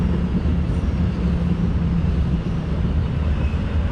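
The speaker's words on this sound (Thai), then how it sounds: "รถไฟมาพอดีครับ" A train passing in a Korean city, a steady loud low rumble and roar of rolling wheels and motors, close by and continuous with no talk.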